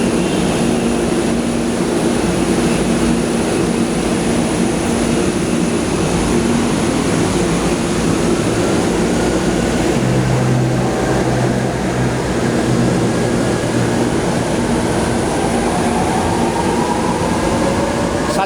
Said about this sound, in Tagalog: Salubong ang MRT.